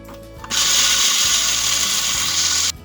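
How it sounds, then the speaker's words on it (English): A food processor motor chops peanuts with a loud, steady whirring roar that starts abruptly, runs for about two seconds, then cuts off, with no talking. "So I'm going to add some to my food processor."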